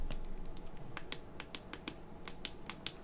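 Buttons on a Hammerhead Karoo bike computer click sharply one after another, about eight crisp, close clicks at an uneven pace against a quiet background.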